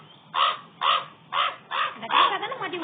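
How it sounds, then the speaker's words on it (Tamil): A crow caws five times in a steady, evenly spaced series, loud and close, from the horror video game Pumpkin Panic, with the last calls running together. "இந்த காக்கா வேற"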